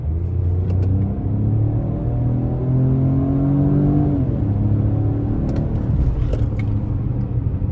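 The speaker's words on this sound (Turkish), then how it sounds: "Yani bu şekilde de bir hızlanması var arabanın." A Peugeot 2008 1.2 PureTech in sport mode accelerates with a steady, loud cabin rumble. The engine note climbs in pitch before easing off, and road and wind roar run underneath throughout.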